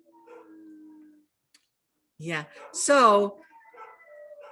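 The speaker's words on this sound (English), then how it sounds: "I have some really wonderful dogs in the background" Dogs bark and let out a drawn-out, wavering howl in the background, loudest in a brief burst near the end, while a person talks nearby.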